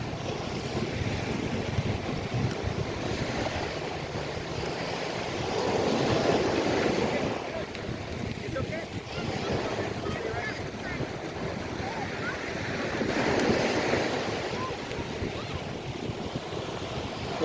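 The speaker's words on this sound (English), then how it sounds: "So you got 3-foot waves every 20 yards." Surf rolls onto a Gulf beach at Fort Myers Beach, Florida, three-foot waves breaking in steady rows, heard as a continuous loud wash that swells twice, with heavy wind buffeting the microphone while bicycling along the shore.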